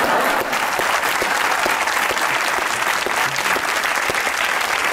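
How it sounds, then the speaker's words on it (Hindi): A studio audience at a Pakistani comedy talk show claps for Quaid-e-Azam, producing loud, dense, continuous applause that holds evenly throughout without voices. "एक बार कायदे आज़म के लिए तालियां हो जाए।"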